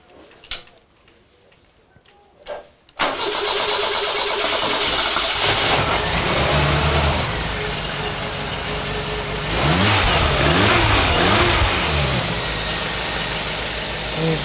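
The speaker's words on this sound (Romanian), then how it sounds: "Acesta este un motor de Dacia 1300, făcut din piese de la dezmembrări și adus în recondiționat până în stare de funcționare." A reconditioned Dacia 1300 engine, assembled from scrapyard parts, sits quiet with faint clicks before cranking and catching, then runs loudly close by, settling to an idle before a few rising revs near the end.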